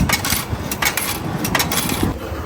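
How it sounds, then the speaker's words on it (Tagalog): Coins clatter and jingle as change drops into the return slot of a vending machine in Japan after a Pepsi is bought, a close, bright metallic rattling that continues throughout. "saka natin kukunin yung barya"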